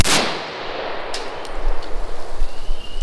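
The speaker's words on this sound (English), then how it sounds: "So I'm gonna shoot at the dirt basically." A single loud, sharp shot from a Norinco SKS Type 56 rifle fired into dirt cracks at the start, followed by a long, rumbling outdoor echo and tail fading over about three seconds, with no talking.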